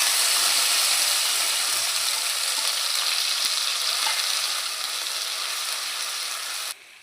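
Spice paste hitting hot oil with cumin and a bay leaf in a pan for spicy potato curry, a loud, steady frying sizzle with faint stirring scrapes that carries on evenly, then drops sharply near the end.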